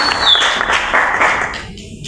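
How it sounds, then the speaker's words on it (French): Audience applause for an artist on stage at an evening casting event at a community centre, a loud, steady wash of clapping that fades out near the end. "On peut aussi l'encourager et l'applaudir quand un artiste est sur scène."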